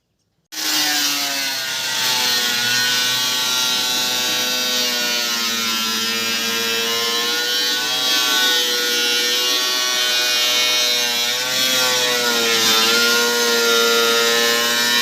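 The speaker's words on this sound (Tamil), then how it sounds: "இப்போ மோட்டர் வைக்கிறதுக்காக மேல் பகுதியை நம்ம மிஷினை வச்சு கட் பண்ணிக்கலாம்" A handheld cutting machine saws through the top of a plastic water can to make an air cooler, a loud, close, continuous high whine that starts abruptly and holds steady with slight pitch shifts as it bites.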